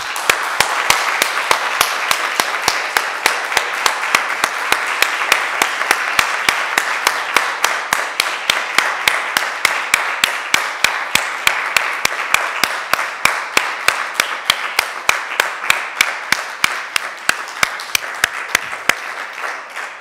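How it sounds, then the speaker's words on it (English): Applause from an audience at the Aboagora event in Turku, a dense wash of clapping that gradually thins into slower, distinct claps near the end. "we give you a warm round of applause"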